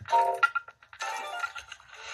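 Bright electronic clinks and chimes ring out in short bursts as a video game vending machine on the Rabbit R1 r-cade dispenses an item, with brief pauses between.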